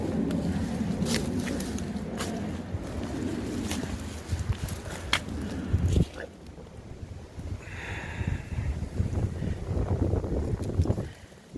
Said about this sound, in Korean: 아 바람이 많이 부네요